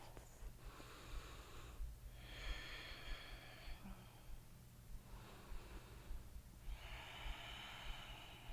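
Slow, steady breathing during a seated yoga twist, several soft airy inhales and exhales spaced a few seconds apart, close and quiet with no talking.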